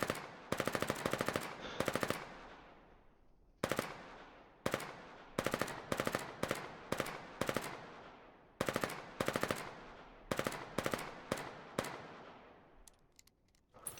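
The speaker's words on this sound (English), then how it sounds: "And these SMGs are so inaccurate." Submachine gun fire in the Foxhole war game, loud close bursts of rapid automatic shots repeating in short volleys with brief pauses and echoing tails, no talk.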